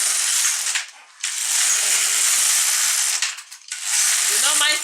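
Carriage of an LK150 knitting machine swept back and forth across the needle bed while knitting rows of a skirt, three loud ratcheting passes separated by short pauses, close and with no talk.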